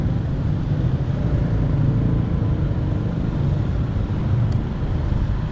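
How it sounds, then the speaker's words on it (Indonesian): Steady rumbling engine of a dump truck hauling construction debris and demolition rubble, a continuous loud low drone throughout with no talk. "di mana dump truck ini membawa material sisa dari bangunan liar"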